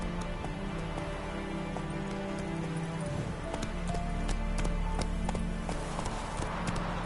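A horse gallops in The Witcher 3: Wild Hunt, a steady, close rhythm of hoofbeats clip-clopping at a constant pace, with faint background ambience and no talk.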